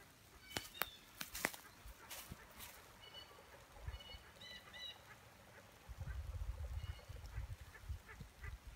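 Ducks quack and honk faintly at a distance in scattered calls, with sharp clicks and rustling close by and a low rumble later.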